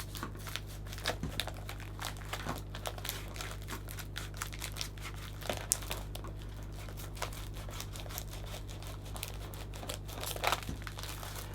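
Cellophane crinkles and crackles as it is shaped into a scalloped edge for a Christmas gift bag arrangement. The crackles come in close, intermittent bursts over a steady low hum.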